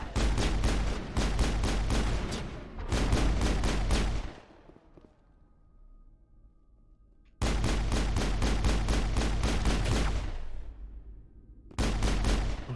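Heavy sustained gunfire in the Mass Effect video game, loud rapid bursts of shots in long runs broken by a few seconds of quieter ambience before the firing resumes, with no talking.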